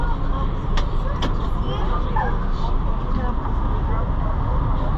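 Tour buses parked at a Grand Canyon park stop, a low steady engine rumble with traffic noise and crowd babble around it, a few sharp clicks mixed in, fairly loud and continuous.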